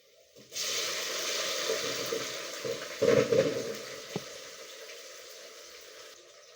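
Tomatoes dropped into golden fried onions in a pan for a carrot and red bean fry, a sudden hiss and bubbling sizzle that swells briefly near the middle and then settles into a steady, moderate fry.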